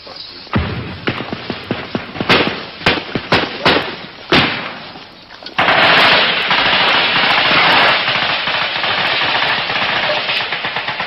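Heavy mortar and gunfire: a run of sharp, loud shots and thuds, then a sustained roar of rapid automatic fire close by.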